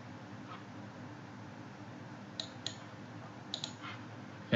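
A computer mouse clicking on a quiet desk, with a few sharp, faint clicks spaced out, some in quick pairs, over a low background hum.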